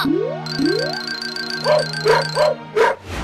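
A cartoon dog gives a few short yips and barks after rising, springy whine-like sweeps, all loud and close with no talking over it.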